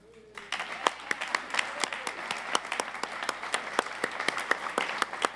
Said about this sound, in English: Please join me in giving this incredible team a round of applause.